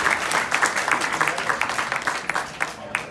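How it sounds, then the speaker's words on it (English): A round of applause from an audience at a Jain Society of Houston gathering, many hands clapping in a busy, uneven patter that carries on steadily throughout. "let's give a round of applause to all of us"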